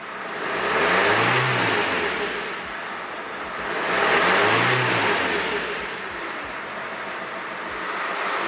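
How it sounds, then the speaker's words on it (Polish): A car engine, running properly after an injector seal repair, revs up twice, rising and falling in two long, smooth swells over a steady idle, loud and close. "silnik pracuje poprawnie. Dodam gazu."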